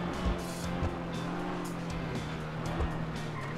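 A Lamborghini Huracan supercar drives fast in the game GTA 5. Its engine roars steadily and loudly at close range, with tire squeal and a few sharp thumps, and no talking.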